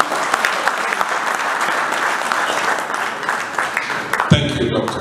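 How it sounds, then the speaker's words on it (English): An audience at a memorial lecture applauds after a speaker's address, steady full-room clapping at moderate loudness that cuts off abruptly near the end. "May we give a round of applause."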